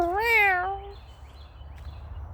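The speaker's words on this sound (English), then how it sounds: "That's a cat." A cat outdoors lets out one clear, drawn-out meow near the start, followed by quiet background ambience.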